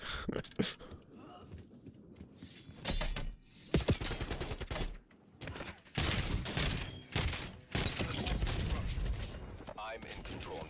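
Gunfire in the video game Black Ops 7, repeated loud bursts of automatic fire and thuds in several clusters separated by short gaps, with in-game voices speaking between volleys.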